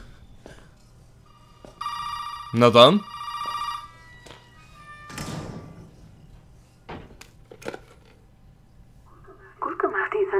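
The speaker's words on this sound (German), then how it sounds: "Und Telefon." An old-style telephone bell rings in a short burst amid thuds and door sounds in the video game Resident Evil 7: Biohazard, with someone briefly speaking nearby.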